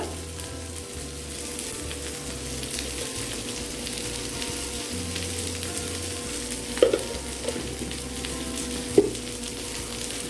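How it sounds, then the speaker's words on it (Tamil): Ingredients for homemade pizza sauce fry in a pan with a steady, continuous sizzle, broken by a couple of sharp clunks of stirring, close and alone with no voices. "இது ஸோ ஃப்ரை ஆகட்டும்"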